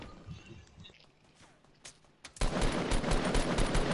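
Gunfire in the video game Fortnite: a few faint shots and quiet movement, then a sudden loud, sustained automatic burst of rapid close shots that runs to the end.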